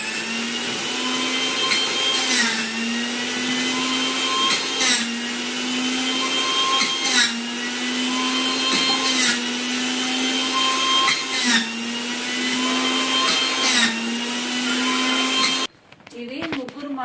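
A new electric juicer runs loudly with a steady high whine while apple pieces are fed in, its pitch dipping briefly every couple of seconds as each piece is crushed, before it abruptly stops.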